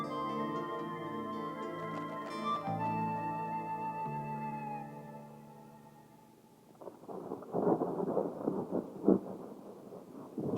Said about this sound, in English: Thunderstorms are frequent on the prairie.